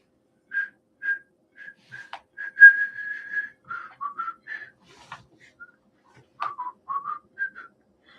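Whistling from the ending scene of the film Life of Brian carries a cheerful tune in short, bouncy phrases with brief pauses, a single clear whistle alone against silence.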